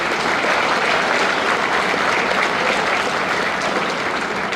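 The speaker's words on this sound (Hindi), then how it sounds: "अच्छा लग रहा तो एक बार जोर से ताली बजा के" A crowd applauds steadily and loudly at a public inauguration event in Gurugram, a dense, even clapping that fills the whole stretch without pause.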